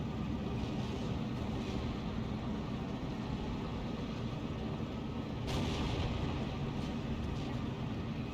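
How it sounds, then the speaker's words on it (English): Bombs dropping and exploding in the Steel Division II war game during a 4v4 battle with T-34 and Panzer IV tanks, a continuous heavy rumble of blasts and battle noise, with a sharper burst partway through. "More bombs being dropped."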